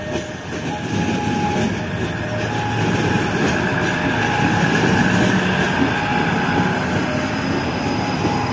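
The Batara Kresna train rolls past close by heading to Yogyakarta station, wheels clattering over the rails with a steady rumble and occasional metallic squeal.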